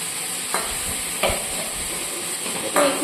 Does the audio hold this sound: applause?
no